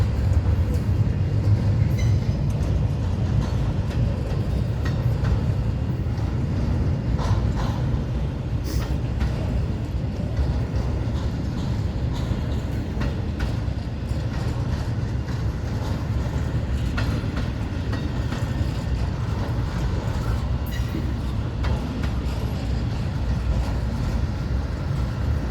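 Southbound freight train out of Jacksonville, Florida, hauled by LNG locomotives, rumbling past close by with a continuous heavy roar and rhythmic clicking of wagons over the rails.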